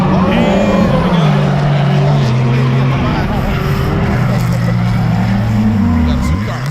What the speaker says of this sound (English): We got two cars coming through